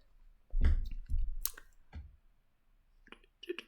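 Quiet, dry computer mouse clicks, a few sharp taps spaced irregularly across a few seconds with near-silence between them.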